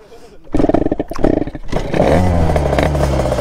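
A Derbi 70cc moped engine being started: a few rough kicks and sputters, then the engine catches and settles into a loud, close, steady buzzing idle, with a voice briefly in the background.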